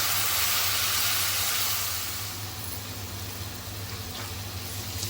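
Onions sautéing in a pan for an Indian chicken dish, a steady broad sizzle with constant hiss that is loudest at first and settles slightly softer, no voices over it.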